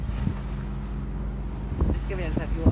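A sailboat motors upwind along the Côte d'Azur, its steady engine drone and wind buffeting on the microphone running continuously, with brief bumps of water and hull noise toward the end.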